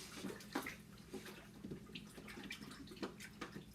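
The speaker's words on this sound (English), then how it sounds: "I'm gonna go ahead and put this into the water bath and just clean it up" A chalk transfer is rinsed and cleaned in a water bath, producing faint, continuous sloshing and small splashes with occasional drips, close by and without talk.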